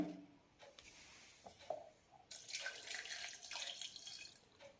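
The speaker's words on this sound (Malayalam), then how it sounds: "ഇതിലേക്ക് 1 കപ്പ് വെള്ളം ഒഴിക്കാം" Water poured from a cup onto jaggery in a pan to make syrup for wheat flour appam, a short splash then a louder sustained pouring trickle for a couple of seconds before tapering off.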